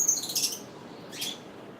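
Small birds chirp near a balcony lined with potted plants, two short bursts of high, thin tweets, the first more sustained and the second briefer, against a quiet background.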